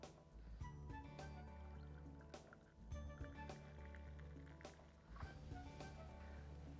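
Ice-cold soda being poured into a glass of mint drink, a continuous bubbly liquid splash with soft fizzing and small clinks, fairly faint, with no speech over it.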